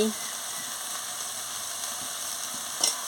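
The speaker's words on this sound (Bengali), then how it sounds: "দিয়ে ভালো করে নাড়াচ্ছি।" Ridge gourd coated with turmeric powder sizzles steadily in a pan while it is stirred, making a soft continuous hiss with faint scraping and one brief clatter near the end.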